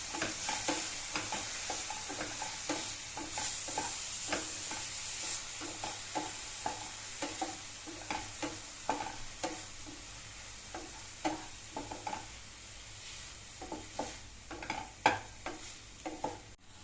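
Tomatoes sautéing in a pan for paneer bhurji give a steady, soft sizzle, punctuated throughout by regular clicks and scrapes of stirring.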